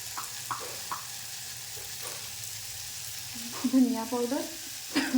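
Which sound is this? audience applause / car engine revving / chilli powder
chilli powder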